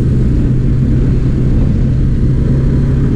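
A first-generation Bajaj Dominar 400 motorcycle engine gives a steady, loud, low rumbling drone that holds an even pitch throughout, with no voices.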